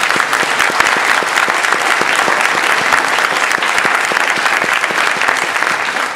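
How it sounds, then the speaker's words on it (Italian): A concert audience applauds a provincial youth band, loud and dense clapping that holds steady from start to finish with no voices on top. "farei ancora un applauso a questi ragazzi"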